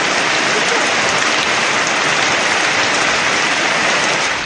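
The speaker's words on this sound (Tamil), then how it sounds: "மயிலாடுதுறை மாவட்டம் சீர்காழி சுற்றுவட்டார பகுதிகளில் கனமழை கொட்டி தீர்த்ததால்" Heavy rain pours down steadily around Sirkazhi in Mayiladuthurai district, Tamil Nadu, a dense, loud, unbroken hiss of drops hitting surfaces with no voices.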